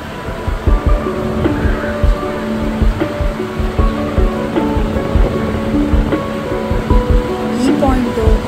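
Niagara Falls roaring at the Cave of the Winds, heard from close by: a loud, steady, rushing roar that fills the whole stretch, with faint voices beneath it.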